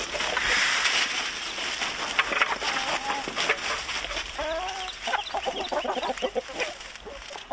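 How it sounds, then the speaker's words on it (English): Free-range chickens cluck outdoors on a farm property, with a flock making repeated short, bright clucks that grow busier toward the end, heard fairly close over a steady background hiss, with no talking. "We have some free-range chickens now."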